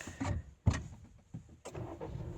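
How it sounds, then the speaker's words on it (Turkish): A Honda electronic parking brake releases with short mechanical whirring bursts from the actuator motor, close and quiet, separated by brief pauses. "Ve aşağı bastığında zaten sesi duymuşsunuzdur. El frenini indirdi."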